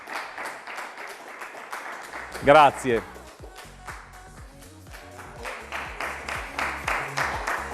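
Audience applause for contestants called back to the centre of the stage, a steady wash of clapping running throughout under a presenter's voice, with a brief louder burst partway through.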